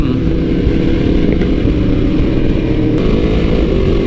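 A Yamaha R1M sport motorcycle with full aftermarket parts runs steadily, its engine a loud, close, continuous low rumble that holds level throughout with no talk over it.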